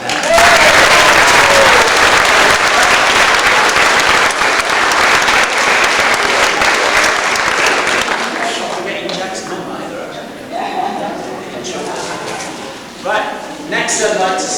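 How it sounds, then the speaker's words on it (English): Primary school audience clapping loudly for about eight seconds, then thinning out as voices and chatter rise in the hall. "So I think we need to give him a big clap for that."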